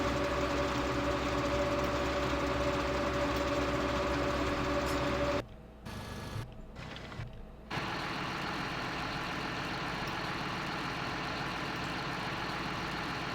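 A tractor engine in the Farming Simulator 2013 video game runs at a steady drone with a constant hum, briefly cutting out to near silence in the middle for a couple of seconds before resuming at the same level.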